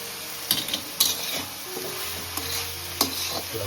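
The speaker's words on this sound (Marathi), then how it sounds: "आता आपण गॅस फास्ट ठेवले एकदा शेवटचा परतून घ्यायचा खोबरा ॲड केले ना" Wild monsoon greens with fresh grated coconut stirred in a hot pan on high flame, a soft sizzle under repeated spatula scrapes and metal clinks against the pan.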